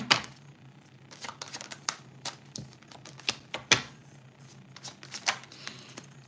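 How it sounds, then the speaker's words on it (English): Tarot cards are shuffled and drawn during a live reading, giving a run of crisp, irregular card slaps and riffles with brief pauses between bursts, close and clear with no talking. "I'm just going to pull a few cards for you."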